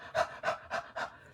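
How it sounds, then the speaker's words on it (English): Four quick, breathy huffs in an even rhythm, close and fairly loud, blown onto a rubber stamp to reactivate its ink. "Sorry for the heavy breathing"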